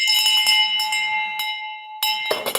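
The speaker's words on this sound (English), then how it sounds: "Ring that bell." A bell rung indoors during a real estate call, ringing out with sustained bright tones: a few strikes in the first half second, one more near the middle, then a louder clang that decays with some clatter.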